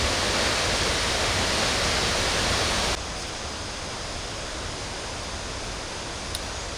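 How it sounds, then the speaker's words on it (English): Four Sisters Waterfalls in Laos, heard from a trail viewpoint as a broad, steady roar of falling water with no talk, loud at first, then abruptly dropping to a softer but continuous rush. "this is the first view of the waterfall on the trail down to the bottom."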